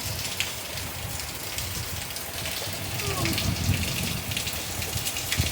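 Rain falling steadily outdoors, a broadband patter of drops on surfaces close by, with some faint background movement and no clear talking.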